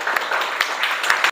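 A classroom of students claps together during an Indonesian Islamic education lesson, a dense, steady patter of many hands at moderate distance, lasting just over a second with a few sharper accents.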